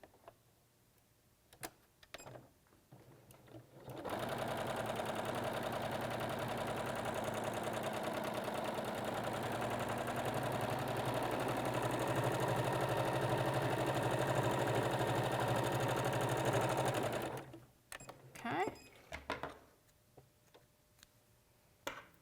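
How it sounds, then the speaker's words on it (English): A home sewing machine runs steadily for about thirteen seconds, stitching seams on flying geese quilt blocks, with a continuous even whir. Brief handling clicks come before and after the run. "We'll go back and stitch on the opposite side of the line."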